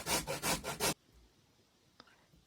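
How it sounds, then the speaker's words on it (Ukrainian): Coarse rhythmic rasping of beetroot on a coarse grater, four quick strokes close up, then near silence with a faint click. "Бурячок натираємо так, як і моркву."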